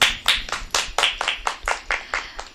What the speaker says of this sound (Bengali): সবাই সম্রাটের জন্য একটা জোরে হাততালি দাও।